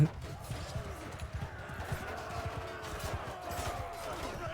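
Galloping horse hooves thud rapidly and unevenly in the Mount and Blade 2 Bannerlord battle game, a busy clatter of many steps under a talking voice.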